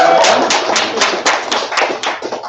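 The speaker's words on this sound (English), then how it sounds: "if we give them a big round of applause" Applause from a meetup audience at a Python user group gathering, dense steady clapping from many hands at close range, sustained and fairly loud with no talking over it.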